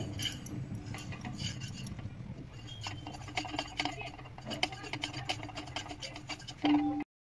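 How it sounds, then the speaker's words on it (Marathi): Poppy seeds dry-roasting in a pan while a spoon or spatula stirs and scrapes, giving repeated light metallic clinks and scratches, close and fairly quiet, ending with a louder knock. "इथं आता मी खसखस भाजून घेते।"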